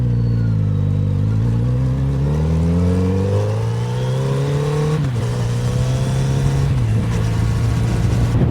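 A Kawasaki Z900RS motorcycle pulls away, its engine note climbing steadily through several gear shifts, loud and close throughout with no talking.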